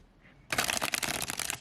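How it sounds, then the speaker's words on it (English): A brief pause, then a fast crisp riffle of gilt-edged tarot cards flicking together, a dense rattling burst lasting about a second. "I'm gonna try and riffle it"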